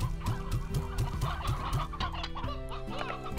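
Rhythmic clucking of briar hens and roosters in a pen in the farming sim Slime Rancher, repeated close calls over a tonal music bed, no speech heard.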